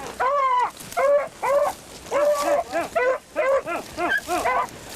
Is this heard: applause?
no